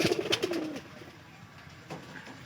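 Pigeons in a loft coo in a low, throaty run of notes near the start, then fall quiet, with a faint second call near the end over light background noise.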